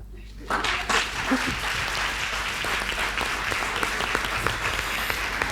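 An audience at a women's eloquence contest in Lubumbashi breaks into sustained, dense applause that starts abruptly and carries on steadily, with a voice briefly heard over the clapping.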